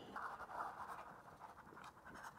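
A carpet knife roughly slicing through a sheet of material, a steady scratchy rasp running close and continuous for a couple of seconds with no talk over it.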